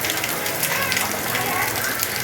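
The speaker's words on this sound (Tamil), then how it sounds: "இவ்வளோ ஃபாஸ்ட்டாக வந்து மழை பெஞ்சிட்டே இருக்குது." Heavy rain pouring down steadily, a dense continuous hiss of falling water close by, with a voice talking over it.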